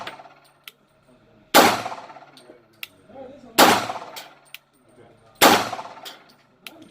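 A CZ P-09 pistol chambered in .40 S&W fires three loud, sharp shots spaced about two seconds apart outdoors, each with a brief ringing decay, with faint clinks and small noises between them.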